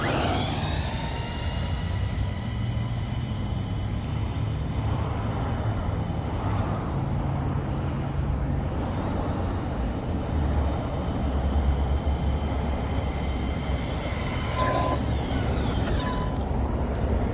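An Arrma Senton 4X4 BLX 223S RC truck doing a speed run on a 3-cell battery: a steady, close electric motor whine with rising and falling tonal sweeps over constant broadband road rumble, sustained throughout.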